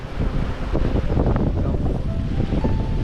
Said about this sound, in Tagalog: Malakas bang alon ngayon?